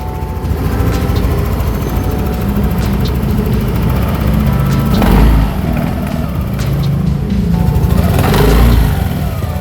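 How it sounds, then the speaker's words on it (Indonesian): A used motorcycle engine, a cheap secondhand bike in clean condition, runs steadily at idle close by, a continuous rumbling drone with slight surges and no talk over it. "Mesin juga mulus nih kalau kalian mau denger."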